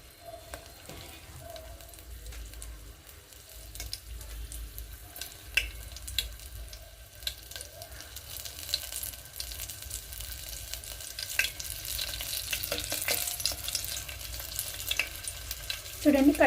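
Four crushed garlic cloves fry in a pan for a bean and tomato curry, a soft, steady sizzle with occasional faint clicks of stirring, continuing throughout at low volume.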